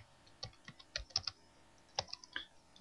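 Someone types on a computer keyboard while working in AutoCAD, with sparse, quiet clicks in two short bursts and a few louder key presses, close and otherwise quiet.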